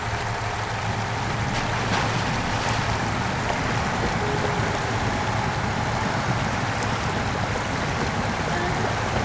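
A truck in SnowRunner fords a river, a loud, steady rush of churning water and low engine rumble that holds evenly without a break.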